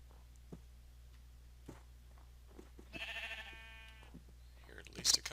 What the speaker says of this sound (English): I actually hear a lot of sheep here